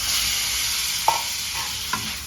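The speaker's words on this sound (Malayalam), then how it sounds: "നന്നായിട്ട് മൂത്ത് വന്ന് ഫ്രൈ ചെയ്ത് വെച്ച ഉരുളക്കിഴങ്ങ് ഇട്ട് കൊടുക്കാം" Fried potatoes and cauliflower sizzle steadily in a hot pan with turmeric for a dry aloo gobi curry, and a couple of sharp utensil scrapes sound as the mix is stirred.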